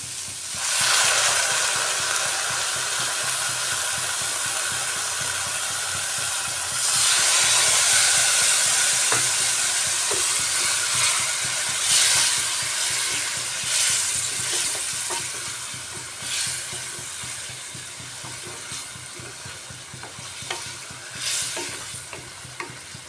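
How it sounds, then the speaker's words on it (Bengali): Water is poured into a spice masala frying in a pan for a coriander-leaf egg curry, setting off a loud, steady hiss of sizzling and steam that runs throughout, with intermittent stirring clatter that eases toward the end. "মশলাটা খুব সুন্দর কষানো হয়ে গেছে। এবার এর মধ্যে দিয়ে দিচ্ছি জল।"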